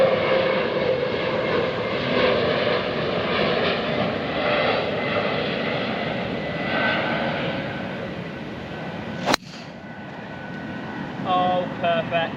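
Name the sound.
airplane flying over golf course on BHX flight path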